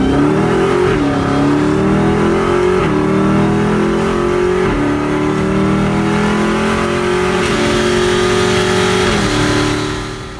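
A 707-horsepower supercharged Dodge Challenger Hellcat pulls hard through several gears, its loud engine note climbing and dropping in repeated upshifts over ten seconds, close and continuous with no talking.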